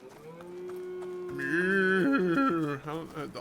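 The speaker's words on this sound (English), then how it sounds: "All these cows are just getting so angry." Angry cows mooing in the video game Dungeons of Hinterburg, a long drawn-out bellowing moo that swells and wavers over game background sound, loud and close, with no talking over it.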